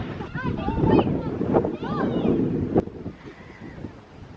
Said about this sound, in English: It's a bit windy, hopefully you can still hear me.